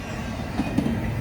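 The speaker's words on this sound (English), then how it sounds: "This is another train." A train rolls past on the railroad at Fonda with a steady low rumble and faint wheel clatter, heard briefly and without speech.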